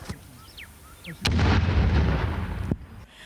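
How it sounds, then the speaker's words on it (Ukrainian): A grenade dropped from a drone at a training range: a soft hiss, then a sudden sharp blast bursts into a rough roar lasting over a second, ending with a crack. "Постріл. Граната полетіла."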